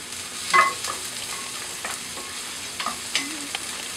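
Peppercorns frying in a pan for pata kare-kare, a soft steady sizzle with occasional light stirring scrapes and clinks, close and moderately quiet, no talking.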